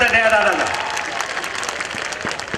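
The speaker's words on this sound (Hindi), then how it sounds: "एक बार दया दादा के लिए भी जोरदार तालियों से स्वागत है" Crowd at a Congress weavers' rally in a stadium applauds a welcomed guest, the clapping rising as a voice fades out and then continuing as a steady, dense roar of hands.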